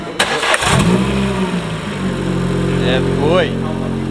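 A rebuilt track car engine cranks and fires up, catching with a loud bark and then settling into a steady, close idle with a couple of throttle blips near the end, while a man calls out briefly over it.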